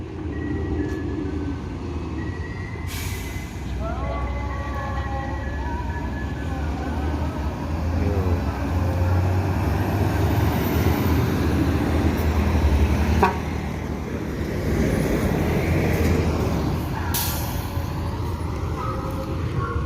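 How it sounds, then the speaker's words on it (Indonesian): Large buses roll into the Balai Solok bus terminal with a continuous low engine rumble and passing traffic noise, including a brief horn-like tone near the start, all at steady moderate loudness. "Jadi E12 ini bus yang ketiga memasuki terminal Balai Solok bosku."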